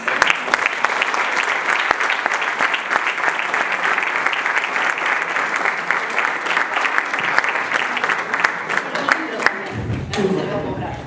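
Dense, continuous applause from a seated audience at a conference on family and public policy fills most of the stretch, then drops away near the end as a voice briefly emerges.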